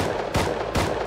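Two sharp Beretta pistol shots in Rust Unturned, loud and close, spaced about half a second apart, each a hard crack with a brief tail, no talk.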